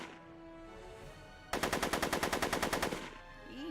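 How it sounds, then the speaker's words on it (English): A rapid burst of machine-gun fire in the Back to the Future video game, about a dozen evenly spaced loud shots over roughly a second and a half, with game music before and after. "Are you shooting at me?"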